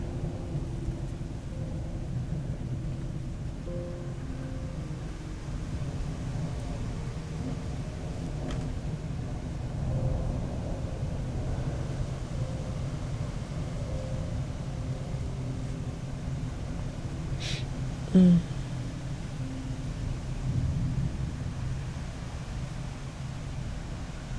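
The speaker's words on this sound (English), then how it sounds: "it's once again not raining, I think, at the moment. Just thundering" Thunder rolls as a low, continuous rumble through a quiet room during a storm with no rain, steady and distant across the whole stretch, with one brief sharper knock near the end.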